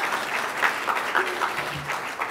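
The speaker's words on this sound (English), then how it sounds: "Round of applause." Audience applause at a talk on using food as medicine, a steady round of clapping from a crowd with a few brief cheers or voices poking through near the end.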